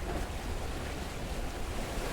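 Ocean waves lapping around a sinking ship at sea, a dense continuous wash of surf with wind noise, loud and steady with no distinct breaks and no voices.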